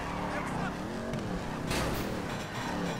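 A custom crew car on a quick test drive in a video game, its engine droning steadily throughout at close range, with a brief burst of noise partway through, while a person talks over it.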